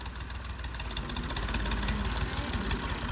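A tractor engine running on a cattle farm, a steady close rumbling idle with rhythmic low knocking throughout, no voices.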